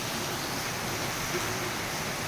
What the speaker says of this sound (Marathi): हे बघा मित्रांनो पाऊस एकदम सुसाट पडतोय